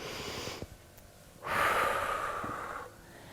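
During a stretching workout, a person takes a sharp breath through the nose and then a longer, louder inhale, close and alone, with a quiet pause between.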